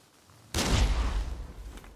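A single rifle shot cracks out sharply in Nioh 3, followed by a booming echo that rolls away over about a second and a half.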